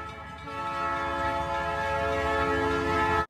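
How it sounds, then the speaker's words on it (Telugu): A Eurostar luxury train gives off a loud, sustained horn-like harmonic drone over a low rumble, holding steady for about three seconds before cutting off abruptly. "ఇదిగో యూరోస్టార్ అండి. ఇవి యూరోప్లోనే లగ్జరీ ట్రైన్స్ అనమాట."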